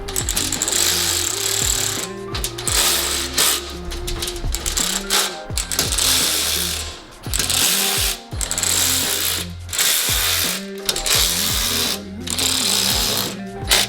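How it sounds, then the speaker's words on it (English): A 10mm ratchet clicks rapidly in repeated bursts while tightening a bolt on a Honda Civic FK8 vented splash shield, loud and close with brief pauses between runs of pawl ticking. "just take a 10mm and just cinch it down"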